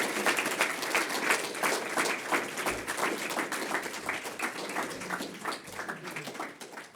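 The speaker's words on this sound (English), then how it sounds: "could we give these guys and girls a nice round of applause?" Applause for veterans at a high school Veterans Day assembly, a moderately faint, continuous patter of many hands with a few low thumps mixed in.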